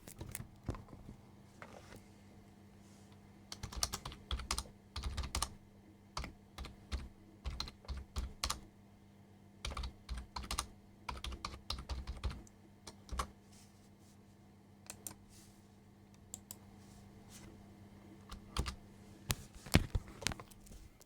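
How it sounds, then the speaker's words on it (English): Computer keyboard typing, quiet clusters of quick key clicks with short pauses between bursts, close and alone without talking. "So I'm just going to type here."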